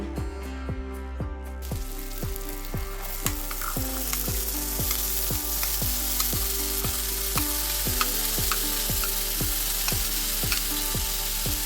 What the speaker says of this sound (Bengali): এখন এর মধ্যে সেদ্ধ করা মোটরগুলো দিয়ে দিতে হবে